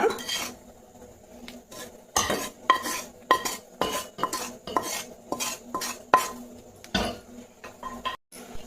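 A spoon scrapes and taps against a pan and a bowl as roasted wheat flour is moved across. The sharp metallic knocks come in a quick, uneven series, close by and without talking.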